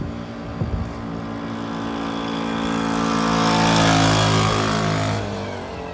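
A turbo moped engine revs up, its buzzing mid-pitched drone rising and swelling loudly over several seconds before easing back, with a brief rattle near the start.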